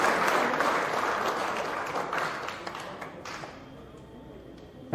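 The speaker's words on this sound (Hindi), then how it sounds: "एक बार तालियों की गड़गड़ाहट से हमारे सभी" Crowd applause at a political gathering, broad dense clapping from many hands that thins and fades toward the end, leaving scattered claps and a brief tone.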